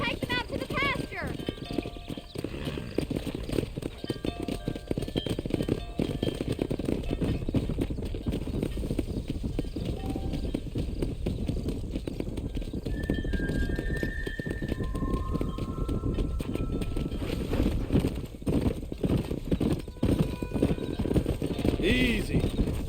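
Horses in the video game Red Dead Redemption clip-clop and occasionally whinny at a steady pace, with game ambience and a voice talking over them throughout.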